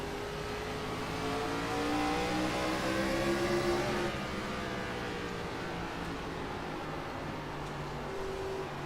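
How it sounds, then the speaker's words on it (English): Race cars circle North Wilkesboro's short oval in a 2005 racing series, a loud continuous engine drone with rising and falling pitch as several cars sweep past, no voices over it. "T24 is the fastest car on the track there."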